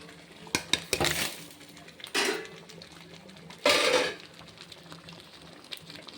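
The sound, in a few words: adding fried paneer to boiling palak gravy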